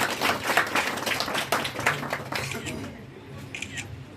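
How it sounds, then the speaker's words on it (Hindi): An audience at a Baglamukhi Jayanti gathering claps for the man helping build a Shani temple, a dense burst of applause with crisp hand claps that tapers off toward the end. "तो इनके लिए जोरदार ताली।"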